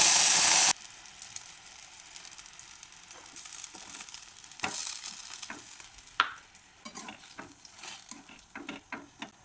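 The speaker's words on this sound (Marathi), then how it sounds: "कढई गरम झालेली आहे, त्याच्यात तूप टाकून घ्यायचं. तूप टाकलं की पाणी पण टाकून घ्यायचं." Ghee and water hit a hot kadhai with a loud burst of hiss, then settle into a crackling sizzle broken by scattered pops and stirring scrapes.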